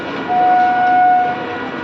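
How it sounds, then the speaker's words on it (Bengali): A train pulls away from a station, its rumble swelling then easing, while a long steady horn or whistle tone sounds through the middle. "এবার চলে যাবে ট্রেনটা।"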